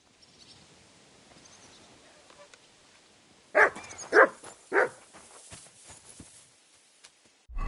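A dog gives three loud, close barks in quick succession after several seconds of quiet, followed by fainter whimpering and yips.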